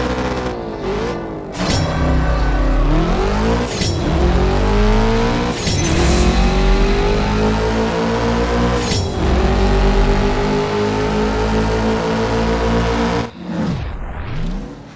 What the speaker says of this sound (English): car's synchronized engine noises the whole way.